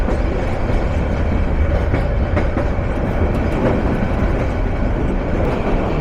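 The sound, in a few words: Agnibina Express train running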